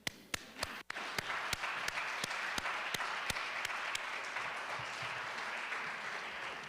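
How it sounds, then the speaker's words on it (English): Clapping at a medical awards ceremony. A few sharp, close individual claps stand out at the start, then a full audience fills in with steady, sustained applause that gradually eases off. "join me in applauding yourselves and those who are not awardees, applauding the awardees"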